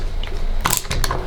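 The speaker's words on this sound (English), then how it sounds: "So now just go around and again tighten all these screws up" Ratchet tightening pool table slate screws, a few quick clicking ratchet strokes with short metallic bursts, close and brief, with no talking.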